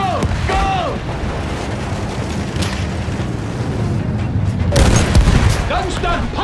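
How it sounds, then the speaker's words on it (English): Heavy field gun blasts in Battlefield 1, deep booming shots and explosions rumbling through a loud battlefield mix, with a strong burst near the end, under shouting voices. "Heavy field gun right there!"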